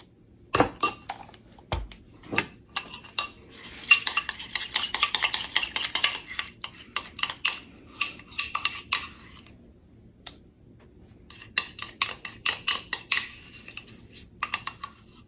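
A spoon scoops and stirs sour cream in a dish for a taco pizza, with rapid metallic clinks and scraping against the dish in busy bursts separated by brief pauses.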